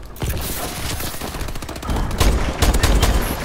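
Dense rapid gunfire from a team-based shooter game during a bomb-plant round, sustained automatic bursts with heavier booming shots toward the end, loud and continuous with no talk over it.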